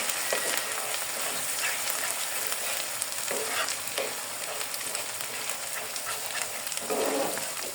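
Onion paste fries slowly in a pan, giving a continuous close sizzle broken by occasional stirring scrapes, with no talking over it.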